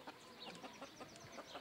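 Chicken clucking in a short run of soft, repeated calls, fairly quiet and without voices, suggesting hens moving about nearby.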